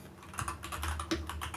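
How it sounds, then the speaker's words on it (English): Soft, quick keystrokes patter on a computer keyboard while entries go into a Google Sheets spreadsheet, a close, faint, steady run of light clicks. "I'm going to just kind of type them in here"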